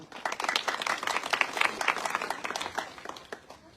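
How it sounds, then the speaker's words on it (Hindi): A crowd at a village blanket distribution ceremony applauds a guest, a rapid, crisp clatter of many hands that swells and then thins out toward the end. "आप सब लोग उनके लिए सम्मान में जोरदार तालियां बजाएं"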